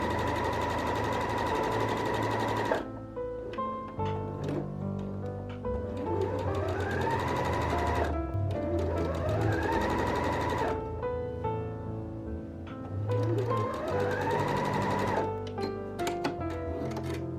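A sewing machine runs a basting stitch along the tops and sides of the pockets on checkered bow pants, its motor whirring steadily and rising and falling in speed, close and alone.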